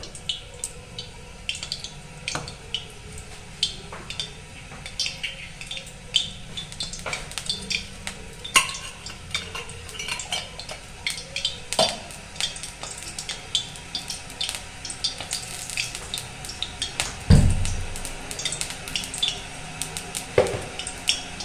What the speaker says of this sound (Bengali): তেলটা গরম হয়ে গেছে প্রথমে আলুগুলো ভেজে নেব